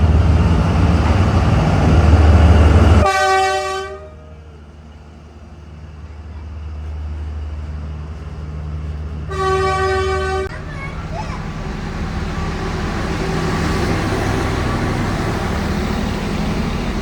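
A train rolls along Hanoi's narrow train street, sounding two loud, long horn blasts a few seconds apart over a steady rumble of traffic and street noise.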